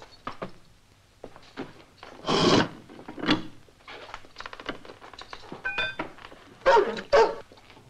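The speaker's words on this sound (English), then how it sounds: "Dog's a bit restless." A restless dog barks intermittently in a gothic horror film, with scattered barks, some loud and some fainter, mixed with knocks, wooden creaks and rubbing sounds of movement nearby.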